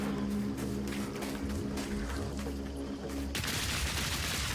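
A mercenary crossbow firing bullets in Path of Exile 2 sounds out as a steady, dense rattle of rapid shots over a humming game background, loud throughout and swelling into a harsher burst near the end.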